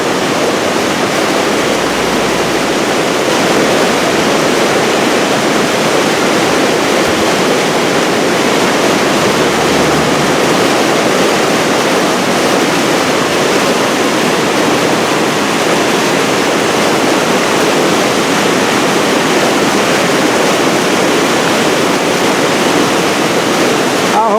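Floodwater rushes at the Ozark Mill after rising about two feet, a loud, steady broadband roar like a waterfall that fills the whole stretch without letup.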